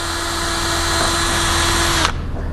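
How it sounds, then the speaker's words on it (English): A power drill fitted with a drill guide bores a hole into the aluminum skin of an Airstream trailer, a steady loud whine that runs continuously for about two seconds and then cuts off abruptly. "drill bit with the drill guide on it"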